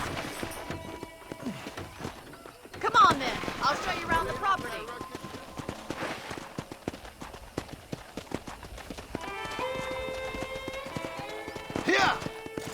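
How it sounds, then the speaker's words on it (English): Horse hooves clip-clop at a run in Red Dead Redemption, a steady rhythm of hoofbeats under a speaking voice and in-game music, with a brief whinny and a louder burst near the start. "let's see if you can still ride a horse."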